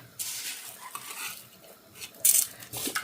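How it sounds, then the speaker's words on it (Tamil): Rice being stirred in a pot for pongal in a home kitchen, with close scraping strokes, metallic clinks of a utensil against the pot and faint sizzling, no voices. "எல்லா அரிசியும் போட்டுட்டு ஒரு மிக்ஸ் பண்ணிட்டு விட்டிங்கன்னா"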